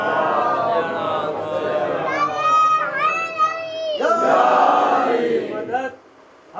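A packed Shia majlis congregation in Kurla roars back the Nara-e-Haidari slogan, many voices shouting together in loud, sustained, chant-like bursts lasting several seconds before dropping off abruptly.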